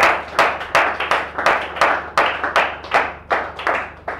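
A church congregation claps in praise of Jesus during a live worship service, steady rhythmic hand claps with sharp regular accents, loud and close, with no voices over them.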